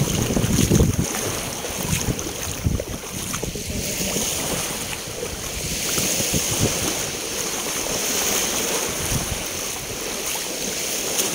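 Strong sea waves surge and wash continuously, with heavy low rumbling swells and wind buffeting the microphone; the surf stays loud and steady throughout, with no voices.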